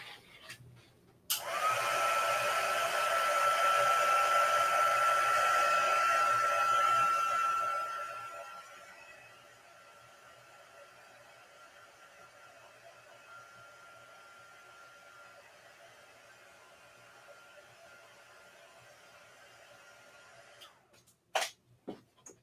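A heat tool or hair dryer runs on ink in a paper craft project, starting abruptly with a loud steady whine and airy rush, then dropping to a softer hum before it clicks off.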